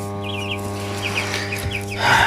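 Fifteen-day-old broiler chicks in a poultry house chirp and cluck continuously over a steady mechanical hum of ventilation, a dense flock sound at close range.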